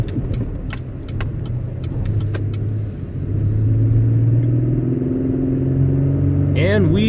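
A 2020 GMC Sierra HD pickup truck pulls away on an icy road with a loud, steady engine rumble that climbs in pitch as it accelerates. Clicks and knocks sound early on, and a voice speaks near the end.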